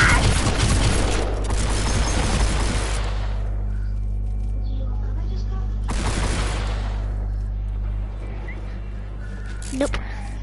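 Bursts of gunfire from a freshly picked-up gun in Fortnite Save the World, with dense volleys near the start and again around six seconds. The gunfire sits over a steady game drone, and players chatter around it.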